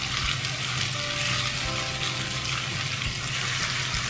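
Chicken tikka kabab pieces fry in oil over low heat, giving a steady, even hiss and crackle that runs unbroken throughout with no voices.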